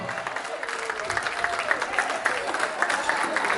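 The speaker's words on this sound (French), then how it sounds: "Ce soir, on l'applaudisse encore et encore." Guests at a 70th birthday celebration applaud warmly, steady clapping from a crowd, with some voices carrying beneath the applause.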